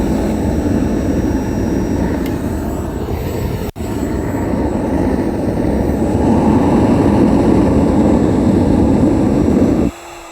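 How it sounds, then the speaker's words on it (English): A homemade jet engine for a thrust test roars loudly and steadily outdoors in the cold, with one brief dip in the middle, then cuts off abruptly near the end. "Homemade jet engines, right?"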